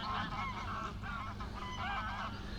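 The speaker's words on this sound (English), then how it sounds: "Some geese coming in, look." Geese flying in over the Norfolk Broads honk repeatedly in a loose, overlapping series of nasal calls, faint and somewhat distant, with no one speaking.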